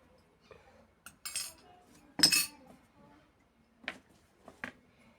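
Small metal spoons clink and tap against each other and a bowl in a few sharp, separate bursts, with quiet pauses between.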